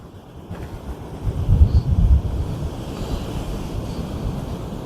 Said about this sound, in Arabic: هنايا نشوفوا البحر من هنايا عاوتاني، المويجات من هنا اللهم بارك.